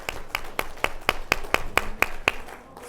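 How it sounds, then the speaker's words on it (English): A small seminar audience claps in a steady rhythm of about a dozen evenly spaced claps, close and fairly faint, with no voices. "Let's give yourselves a round of applause."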